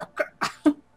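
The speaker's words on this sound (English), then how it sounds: "because she actually coughs for a second" A female video game character gives a quick series of three or four harsh coughs at close range, each short and sharp, with no other sound around them.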